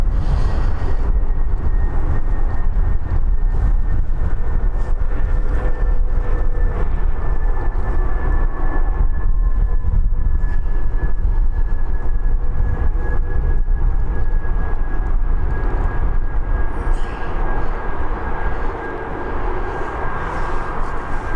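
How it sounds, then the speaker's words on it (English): An Emirates airliner taxiing at Birmingham airport gives a steady jet engine whine over a low rumble, heard from some distance outdoors for about twenty seconds, with no speech. "the Emirates is now making its way around to the taxiway"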